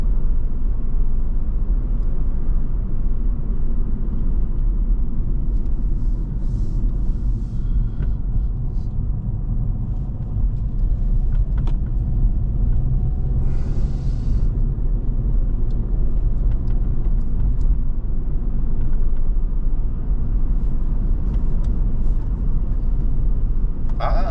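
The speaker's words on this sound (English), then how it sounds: "There's a reason why that's a strong diesel engine" A car with a strong diesel engine drives at night, its low steady rumble and road noise continuous and fairly loud from inside the cabin, with a few faint clicks over it.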